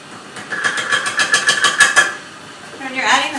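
Electric mixer kneads roll dough while flour is added, a loud rhythmic whirring motor in quick pulses that stops after about two seconds, then brief talk.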